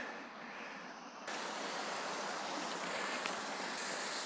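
Steady broadband rush of water cascading down a big drop over an old wall among industrial ruins, close and constant, with no voices, getting a little louder partway through.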